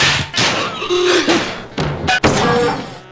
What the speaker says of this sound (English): looks like the troll's about to thump something